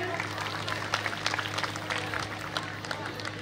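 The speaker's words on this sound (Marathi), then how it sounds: "तिच्यासाठी टाळ्या झाल्या पाहिजे।" Audience applause at a girls' school annual gathering honouring a gold-medal student, a dense, even patter of many hands clapping with a voice speaking over it.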